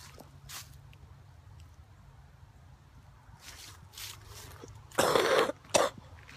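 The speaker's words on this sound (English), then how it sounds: "Oh my god, I need to get rid of this cough." A person coughs, a short rough burst followed by a single quieter cough, close and fairly loud over a faint background hum.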